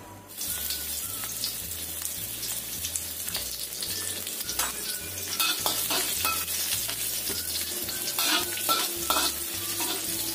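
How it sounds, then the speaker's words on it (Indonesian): Constant sizzling and crackling of sliced shallots and garlic frying in oil, with occasional scraping stirs and a low rhythmic hum underneath. "Kemudian kita tumis dulu bawang merah bawang putihnya sampai matang."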